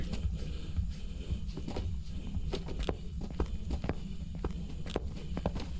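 Heavy stomping footsteps from a ghost in a ghost-hunting video game, a steady run of thudding steps with sharp impacts, fairly close and alone without talk.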